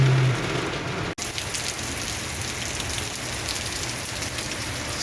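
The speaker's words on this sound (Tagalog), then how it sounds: "ang lakas ng ulan" Heavy rain pours in a steady, dense downpour during a severe storm on a roadway where visibility is nearly gone. The dense hiss holds throughout, with one brief dropout near the first second and no talking.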